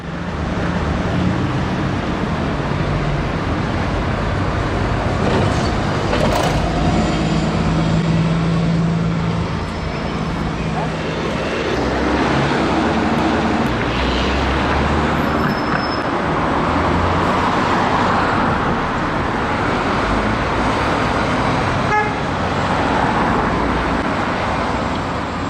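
A London Enviro 400 double-decker bus (E40D) running amid steady roadway traffic, a loud continuous low engine rumble and road roar lasting throughout, with no voices.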